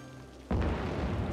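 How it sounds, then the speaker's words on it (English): Thunder in the Cities: Skylines city-building game: a sudden loud boom breaks in after a quiet stretch, then a heavy, sustained low rumble rolls on without fading. "That was a thunder."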